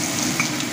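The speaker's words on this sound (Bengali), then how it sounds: "এই আদা রসুনটা একটু নেড়ে নেবো।" Ginger and garlic stirred in hot oil in a pan, a dense close sizzle with a brief scrape of the spatula, heard alone.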